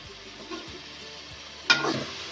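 Ginger garlic paste fries with onions in a pan, a faint low sizzle with light stirring taps, then a sudden louder burst of hissing near the end.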